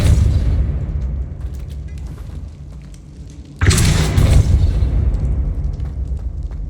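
A heavy magical blast from the Depulso spell in Hogwarts Legacy booms out suddenly midway, loud and close, over a rumbling game soundscape.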